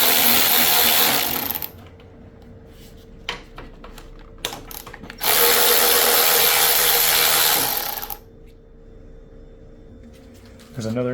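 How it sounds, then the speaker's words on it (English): A wrench works loose the 10mm bolts holding the gas tank of a Kawasaki Vulcan S motorcycle, making bursts of close metallic ratcheting and clicking separated by quieter gaps. "And then you're going to take out these 2 10mm bolts here."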